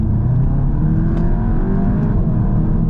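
A VW Golf GTI Clubsport MK8.5 accelerates, its engine giving a steady, loud low drone that builds and strains slightly as the car gathers speed, with no talking over it.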